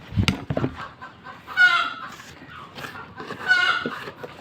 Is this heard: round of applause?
no